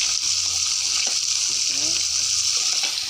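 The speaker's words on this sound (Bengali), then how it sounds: "মাছ ভাজা হচ্ছে" Fish sizzles in a pan of hot oil in a home kitchen, giving a steady, even hiss that runs unbroken through the whole moment, with faint clinks and low kitchen noise underneath.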